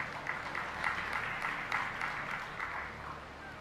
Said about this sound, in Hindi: जिनको समझ आई उनने ताली बजाई